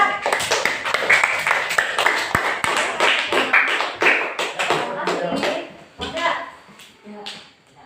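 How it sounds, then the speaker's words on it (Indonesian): Classroom of sixth-grade students bursts into dense, rapid applause for a student group, many hands clapping close by at full volume before tapering off near the end, with voices mixed in. "Tepuk tangan dong untuk kelompok hebat."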